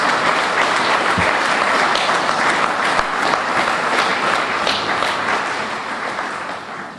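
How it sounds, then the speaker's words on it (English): An audience at a veterans' memorial building grand re-opening ceremony gives a sustained round of applause, an even wash of many hands clapping that eases slightly toward the end. "would you please give a round of applause for Leroy and Frances?"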